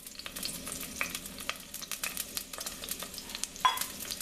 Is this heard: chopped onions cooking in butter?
yes